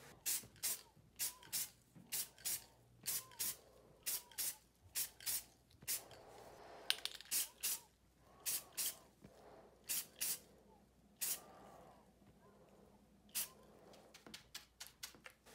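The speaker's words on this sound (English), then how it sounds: "The remaining pieces will be sprayed with flat black." Can of flat black spray paint coating replica blaster pistol parts in short, repeated hissing bursts with brief pauses between them, close up and with no talking.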